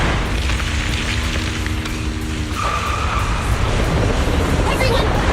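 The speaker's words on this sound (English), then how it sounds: "Dang, that was quite an impact." Vehicle crash in the Zenless Zone Zero video game: loud engine rumble and rolling road noise, then a heavy booming impact with skidding and a rumbling tail.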